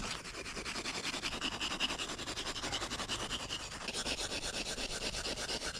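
Two pieces of snow rub together to make loose snow, producing a continuous close gritty scraping, steady and fairly loud like grating, with no voices.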